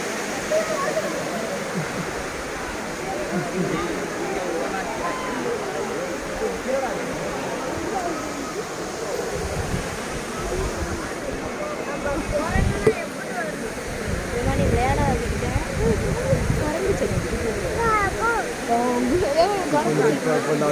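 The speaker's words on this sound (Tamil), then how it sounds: "செம்மையாக தண்ணி வந்துக்கிட்டு இருக்கு ஃபேமிலிஸ்" Water rushes continuously down the falls at Kutralam, a broad steady roar close by, with people talking over it throughout.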